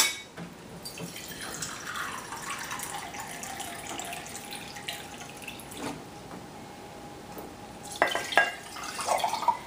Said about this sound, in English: And then a cup of water.